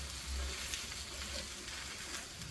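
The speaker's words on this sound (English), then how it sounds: "pour the egg mixture gently over the potatoes and ensure to cook on medium heat for about 1 minute as the egg sets" Potato and egg omelette cooking in a pan over medium heat, giving a steady, soft sizzle that runs evenly throughout with no voices.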